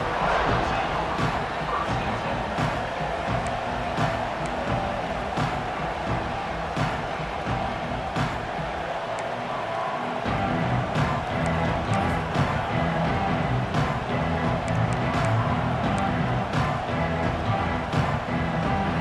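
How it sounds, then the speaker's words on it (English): Stadium crowd noise in a college football video game, Michigan State against Arizona: a dense, steady roar of many voices filling the whole stretch, with a commentator talking over it. "This crowd ready to make its presence known."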